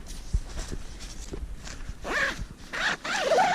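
A Vango Force Ten Helium UL 1 tent zipper is pulled open in several quick rasping strokes, close and loud, after a few soft handling knocks, on Dartmoor.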